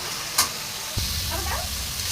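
Spice masala fries in a pan for a dried lotta fish dish, a close, continuous sizzle with a sharp clatter of stirring near the start and another thump about a second in.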